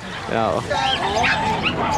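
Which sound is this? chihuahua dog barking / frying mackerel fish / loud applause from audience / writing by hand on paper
chihuahua dog barking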